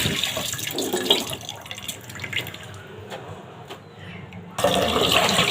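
Salted fish being washed by hand under running tap water in a kitchen sink, a steady close splashing stream that thins briefly and then surges back strongly near the end, with no talk.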